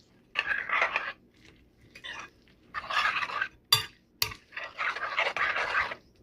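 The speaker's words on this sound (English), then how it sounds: "So we're gonna get a spoon and get that stirred in." A spoon stirs shredded cheese into a quiche mixture in a bowl, with several bursts of soft scraping and swishing separated by pauses and two sharp clinks against the bowl, heard close and fairly quiet.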